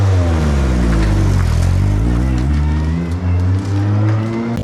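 Loud, sustained engine of a 230-horsepower, 800 kg Renault-engined race car with a BMW body, revving steadily close by with rising and falling pitch and no voices over it.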